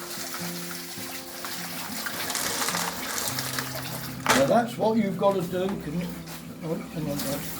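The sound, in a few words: water poured and drained while washing winkles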